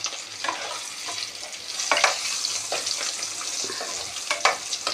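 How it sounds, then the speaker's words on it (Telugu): Fish and eggs fry in a home kitchen pan, a continuous close sizzle broken by a few scraping stirs and spatula taps, with no one speaking. "ఉండే గుడ్లు వేగిపోయినాయి, చేపలు వేగిపోయినాయి"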